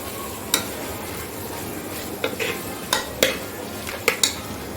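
Masala cooks in oil in a pan with chili powder added, a low steady sizzle under irregular metallic scrapes and clinks as a spoon stirs against the pan, about seven distinct strikes spread across the stretch.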